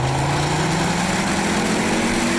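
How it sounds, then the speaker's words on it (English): A 2009 Ford Focus RS engine runs steadily at a low, even note with a hint of whine, close and continuous for a couple of seconds, with no talking over it. "One of my favourite parts of this car is the sound of the engine."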